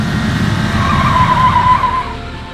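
The Regalia, a car in the video game FFXIV, skids with a rising tire squeal that holds steady for about a second over a constant low engine rumble, then fades.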